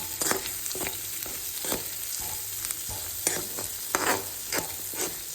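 Spring onions sizzle in a hot pan for egg rice while a spatula stirs them, with a steady frying hiss broken by repeated scraping clinks of the utensil against the pan, close up and with no talking.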